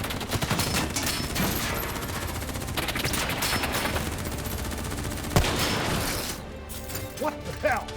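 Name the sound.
gunfire in the video game Call of Duty Black Ops III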